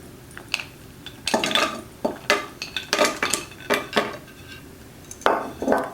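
Spoon clinking and scraping against a saucepan holding plant-based cream and chocolate pieces, a run of close, irregular metallic knocks and clinks with no talk.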